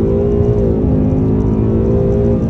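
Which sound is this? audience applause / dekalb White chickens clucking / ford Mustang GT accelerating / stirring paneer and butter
ford Mustang GT accelerating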